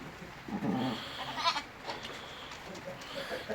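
Bleats from a nearby pregnant sheep, a couple of wavering calls over a quiet outdoor background with faint voices.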